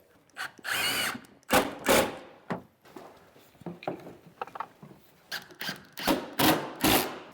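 Screws being driven with a power drill during a home renovation come as short, loud whirring bursts separated by pauses and light handling knocks.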